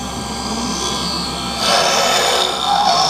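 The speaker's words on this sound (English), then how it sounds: "Right when we get to the thickest part of the lens, you will hear it get loud." A lens edging machine grinds a Ray-Ban 5206 prescription anti-glare lens with a steady, close whirring rasp that grows louder and harsher halfway through as it reaches the thickest part of the lens.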